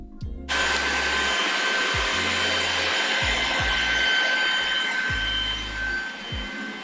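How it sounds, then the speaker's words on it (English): A Trifo Ollie robot vacuum on maximum suction roars steadily with a loud high-pitched whine and broadband hiss, brushes rattling underneath, running continuously after a brief startup. "this is how loud it is when on maximum suction."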